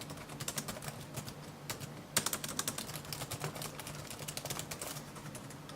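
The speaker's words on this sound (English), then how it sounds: "the keys are plasticky and way noisier than I'm used to" Fast typing on the plastic keyboard of an Asus X550 laptop, a steady close run of light, clattery keystrokes with a few sharper taps, with no talking.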